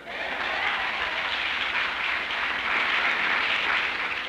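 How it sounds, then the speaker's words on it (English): A large audience at a 1966 rally claps in a steady, hissing wash of sound, continuous and even throughout, with a slightly distant, muffled quality. "I don't like the way you're clapping tonight."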